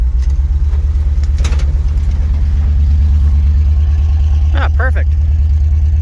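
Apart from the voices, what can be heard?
old International truck engine running while moving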